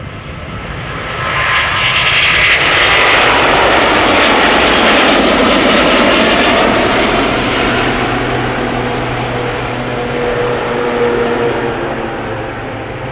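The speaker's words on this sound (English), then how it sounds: "Airbus A330neo outbound to New York JFK." An Airbus A330neo jet roars into takeoff at Schiphol Airport, building from a distance to a loud, broad rumble and then slowly fading away.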